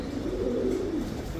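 A white racer pigeon coos softly up close, a low, rolling, throaty call lasting about a second against quiet background hum.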